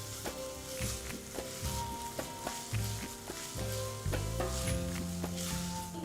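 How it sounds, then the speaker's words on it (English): Coconut toasting in ghee in a pan crackles and sizzles steadily, broken by repeated soft scrapes and taps of stirring, close up over a quiet musical backing. "I'll gently toast it for around 3 to 4 minutes."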